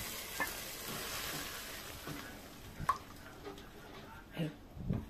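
Garlic frying for Egyptian okra weika, a soft sizzle with stirring and a few clinks of utensils in a pan, fairly faint, with some quiet voices in the background.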